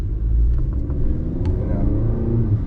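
A 2018 Honda Accord 2.0t on General G-MAX AS-05 winter tires plows through snow, a steady loud low rumble of tires and engine with the front lip scraping, and faint soft ticks on top.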